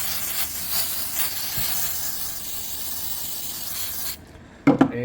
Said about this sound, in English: you're gonna hit it with either brake cleaner or carb cleaner